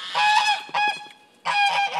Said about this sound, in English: The geese were taking snow baths.